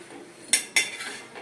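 Crispy chocolate dosa lifted off an iron tawa with a spatula: two sharp metallic scrapes close together, each brief and bright, over a quiet background with no talking.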